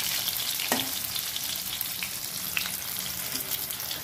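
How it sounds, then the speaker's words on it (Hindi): Potatoes fry in a pan under a dense, steady sizzle, with a few soft stirring scrapes over it and no talking. "हमारी आलू भी फ्राई हो चुकी है।"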